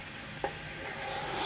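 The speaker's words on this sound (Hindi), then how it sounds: "अदरक लहसुन का पेस्ट डाल के आप इसे फ्राई करें तकरीबन 5 मिनट के लिए" Meat fries with ginger garlic paste for nihari in a pan, giving a steady close sizzle with one short scrape or stir partway through and no talking.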